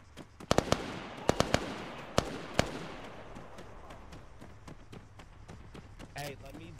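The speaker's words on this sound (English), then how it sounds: "Two shots." Gunshots in the video game ArmA 3: a quick burst of sharp cracks followed by scattered single shots, fairly loud over a rumbling background, with occasional distant reports and some talk near the end.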